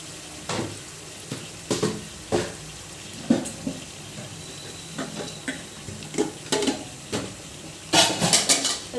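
Chukka kura chicken curry fries in oil in a pan with a soft, continuous sizzle, broken by repeated scraping and clinking of a spoon against the pan, closing in a brisk cluster of stirring knocks.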